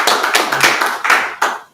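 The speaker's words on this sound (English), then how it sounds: "So let's give him a round of applause." Applause at a press conference for an empowerment programme: a short burst of a few close, loud hand claps in an uneven rhythm, fading out quickly.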